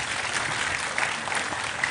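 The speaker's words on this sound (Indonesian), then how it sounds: "Sekali lagi tepuk tangan untuk Mbak Puan." An audience at a public gathering claps together in a brief, steady burst of dense applause, heard alone without talk.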